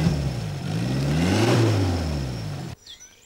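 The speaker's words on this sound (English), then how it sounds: "You keep your engine running in a jam like this all day" A car engine runs steadily while stuck in a traffic jam, a loud close drone that swells in pitch mid-way and then cuts off abruptly near the end.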